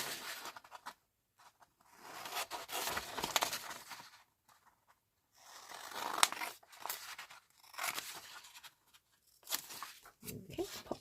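Scissors snip through paper tags for a junk journal in short bursts of crisp cutting and rustling, separated by quiet pauses, close and fairly soft.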